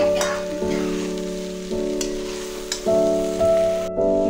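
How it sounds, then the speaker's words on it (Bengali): Young jackfruit sautés with spices and potato in a pan over medium heat. A close, continuous sizzle is broken by the scrape and clatter of stirring, and a steady tonal hum runs beneath it. "ইঁচড়টা দিয়ে নেওয়ার পরে ভালো করে মশলাটার সাথে কষিয়ে নিচ্ছি।"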